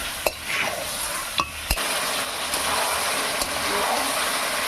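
Mutton coated in spice paste and Kashmiri red chili powder sautéed and stirred in a pan, a steady close sizzle broken by a few sharp scrapes and knocks of the spoon, with no talk over it.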